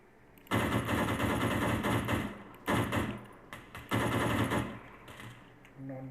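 Sustained automatic gunfire in the video game Arma 3, with long loud bursts separated by short pauses and a fainter trailing burst at the end, heard without speech.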